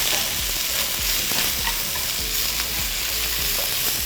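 Onion and scallions stir-fry in a hot pan, giving a bright, steady sizzle with repeated scraping and tossing strokes, loud and close with no speech.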